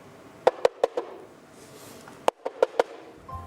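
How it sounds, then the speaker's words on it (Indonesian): Coconut shells are knocked together for foley: two close bursts of four hollow wooden clacks each, separated by a short pause, with no voices. "Enggak, ini batok-batok ini."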